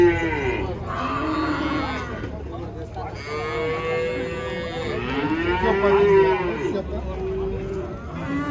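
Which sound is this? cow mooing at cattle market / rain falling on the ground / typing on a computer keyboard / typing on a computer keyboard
cow mooing at cattle market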